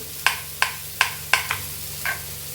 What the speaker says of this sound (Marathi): कांदा आपला परततोय